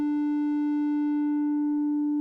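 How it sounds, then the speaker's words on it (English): A Moog Minimoog plays a steady, sustained triangle-wave tone through its ladder filter. The single held pitch is loud and clean with bright harmonics, and it runs unbroken with no voices. "it gets even better with the inclusion of the amazing Moog filter."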